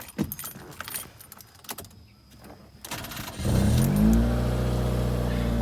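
Keys jangle before a Nissan Sunny's engine cranks and starts, then is revved up and settles into a steady idle, loud and close, with no one talking.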